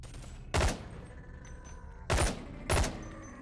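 Enemy gunfire in the VR shooter BONEWORKS, three sharp loud shots, the first one alone and the last two close together, over a low game ambience.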